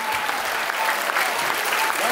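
An audience at a philharmonic concert featuring a national symphony orchestra breaks into dense, steady applause, loud and close, sustained evenly throughout without a break.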